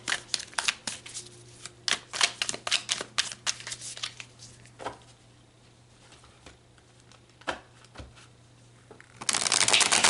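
A deck of tarot cards being shuffled close by, a rapid flurry of crisp riffles and taps that thins to sparse slides, followed by a soft rustle at the end.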